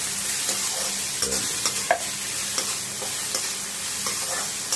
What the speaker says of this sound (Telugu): ఉల్లిపాయలు వేసి మనం మిక్స్ చేసి మగ్గనిద్దాం